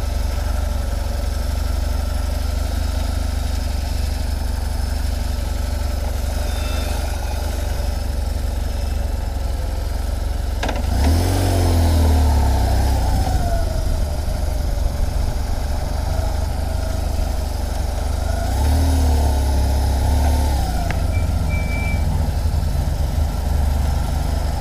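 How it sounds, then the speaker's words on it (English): A motorcycle engine idles steadily and close by with a low, even rumble, swelling twice in short revs before settling back to idle. No one speaks. "Bike's ready to go."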